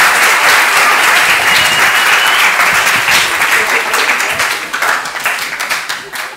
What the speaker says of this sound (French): Vous pouvez l'applaudir quand même.